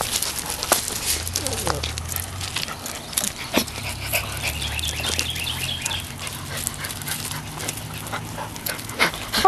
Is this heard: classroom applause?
no